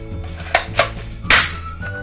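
A toy dart gun fires three sharp snapping shots in quick succession, loud and close, the last one strongest.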